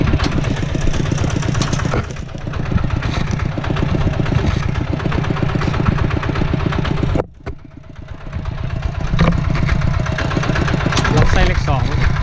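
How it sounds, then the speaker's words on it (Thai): A farm tractor engine runs steadily in a village at New Year, with a loud, continuous low rumble that dips briefly once and then resumes, while people talk over it. "บ่ได้ขับรถไถในรอบ10 ปี"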